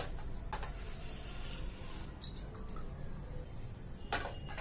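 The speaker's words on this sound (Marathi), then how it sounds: "हे हुलगे आपण दोन ते तीन पाण्याने छान धुवून घ्यायचे आहेत" Horse gram (hulge) being washed in water in a bowl, with light sloshing and a few sharp clicks of grains and vessel, close and fairly quiet over steady background noise.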